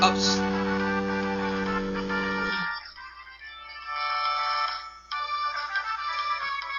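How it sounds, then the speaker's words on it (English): A loud electronic ringtone melody plays, breaks off briefly, then resumes with a slightly different tone, close to the listener. "Yes, that's my ringtone."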